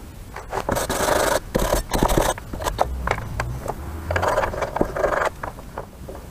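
Rust being scrubbed off a brake part from a VW LT28 van, rough rasping and rubbing strokes in irregular bursts, close and fairly loud, with no talking.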